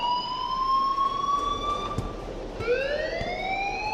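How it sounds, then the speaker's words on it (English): A wailing electronic alarm rings in the video game Life Is Strange, a loud siren-like tone sweeping in long steady rising glides that restart partway through, with no voices over it. "please turn off that alarm since that's your job"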